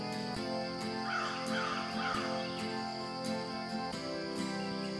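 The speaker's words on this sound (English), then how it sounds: "There's that bird that woke me up this morning." Loud, harsh crow caws ring out repeatedly over a steady background hum at a morning campsite near Antietam, with a sawmill nearby.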